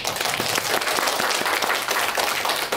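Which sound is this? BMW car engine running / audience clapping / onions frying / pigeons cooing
audience clapping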